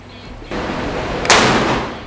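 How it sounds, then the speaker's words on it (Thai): A shotgun fires a nine-pellet rubber buckshot round, heard as one loud, close blast with a sharp crack that rings out and decays over steady background noise. "แล้วต่อไปผมจะยิงด้วยลูกปลาย9เม็ดนะฮะ กระสุนลูกยาง"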